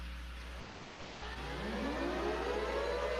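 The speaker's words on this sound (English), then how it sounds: "Air raid siren goes off." A wailing air raid siren winds up and rises in pitch, loud and sustained over a steady low hum, with no voices.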